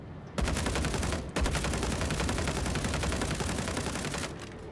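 Automatic rifle fire in the space game Star Citizen, a loud, rapid unbroken burst emptying a full magazine, with a brief stutter near the start before the stream continues for several seconds and cuts off.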